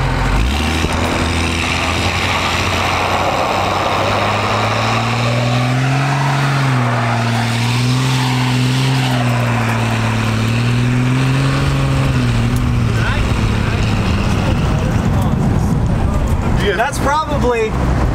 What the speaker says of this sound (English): Okay, here's where we're gonna do a little burnout.